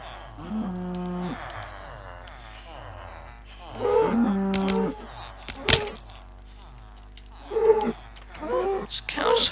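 A cow in Minecraft lets out repeated low moos as it takes damage, several separate calls with short thuds and clicks between them.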